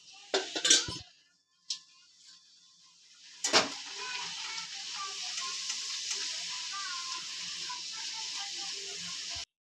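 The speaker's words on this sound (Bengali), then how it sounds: "এবারে আমি তেলে দিয়ে ছেঁকে নিচ্ছি।" Bhature dough deep-frying in hot oil, a steady broadband sizzle that swells after a few clinks of a utensil against a pan, loud and continuous to the end with no talking.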